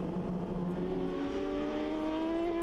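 A Yamaha racing motorcycle on track during an endurance race, a sustained high engine drone that rises steadily in pitch as it accelerates, loud and continuous with no pauses.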